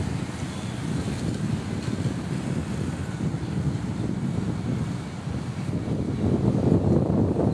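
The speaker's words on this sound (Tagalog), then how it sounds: "Marinig yung hangin guys." Steady wind rushing and buffeting the microphone, a continuous low roar that swells slightly toward the end, with no voices.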